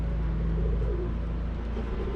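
Racing pigeons coo softly at a loft, a low murmuring call partly buried under heavy wind rumble and outdoor noise.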